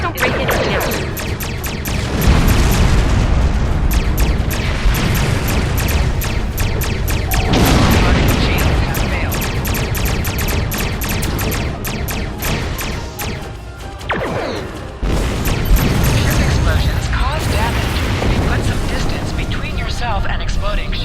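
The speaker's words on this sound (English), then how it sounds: "And exploding ships." Exploding starships in a Star Trek video game: dense, loud, continuous booms, crashes and rumbling blasts fill the whole stretch, with a brief dip near the middle and voices mixed into the din.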